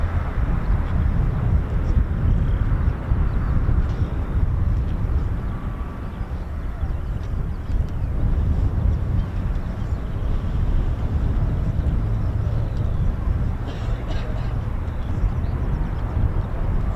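Aircraft engines running at the Battle of Britain Memorial Flight, RAF Coningsby, a distant steady roar with a broad rumbling drone across the airfield.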